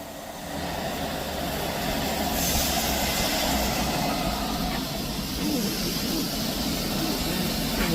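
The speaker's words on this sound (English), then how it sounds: "departing out now is a Transpennine Express from Manchester Airport to Edinburgh Waverley" A Transpennine Express train from Manchester Airport to Edinburgh Waverley pulling out of Edinburgh Haymarket, a steady loud rumble and engine drone that stays close and constant throughout.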